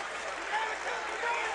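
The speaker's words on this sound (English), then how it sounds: "The crowd lets out a sarcastic cheer" Basketball crowd at a Bradley versus Valparaiso game lets out a sarcastic cheer, a broad roar of massed voices and scattered applause filling the arena, swelling briefly under a commentator's voice.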